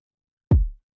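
A single heavily saturated kick drum from an Afrobeats beat mix lands as a thick, punchy thump with a deep, short decaying tail, isolated against silence.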